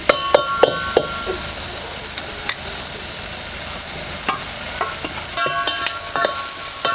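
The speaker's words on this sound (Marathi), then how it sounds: "पूर्ण तेलामध्ये चांगलं परतायला पाहिजे असं आपल्याला टमॅटो परतून घ्यायचं" Tomatoes sauté in plenty of hot oil with a loud, constant sizzle, while a spoon scrapes and clinks against the pan in irregular strokes throughout, no voices.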